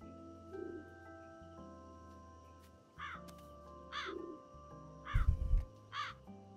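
A crow caws repeatedly in the video game Calico, several short harsh calls spaced about a second apart over a soft ambient game backdrop of faint chirps and insect-like drones.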